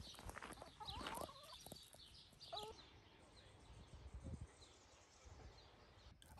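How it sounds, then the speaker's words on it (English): Chickens on a farm campsite give short, faint clucks and a brief squawk close by in a quiet outdoor setting. "After paying for the campsite, I found that the chickens were following me."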